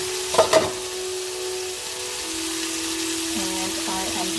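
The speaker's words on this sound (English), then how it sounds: "take the lid off and continue grilling" Cauliflower sizzles in a pan on the stovetop, a steady soft frying hiss with two brief clatters at the start, over a constant low hum, no talk.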